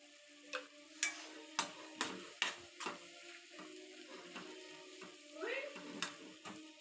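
Radish greens roasting in a pan with chili powder and turmeric produce a soft, low sizzle under sharp, repeated spoon taps and scrapes against the pan, quiet and close with no clear speech.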